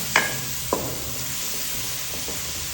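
Garlic paste hits a hot pan for a hog plum pickle with two quick sizzling bursts close together near the start, then a low, steady frying hiss continues alone.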